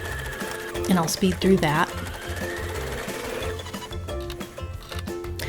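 An embroidery machine stitches a head outline and face onto a felt character appliqué, its rapid needle chatter running steadily throughout while a person speaks briefly near the start.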